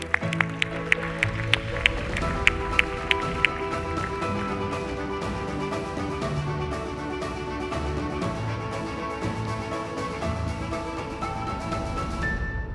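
Loud crowd applause at an e-health awards ceremony for the winning project, sustained clapping throughout with a few sharp claps and whistles standing out at the start, over a steady music bed.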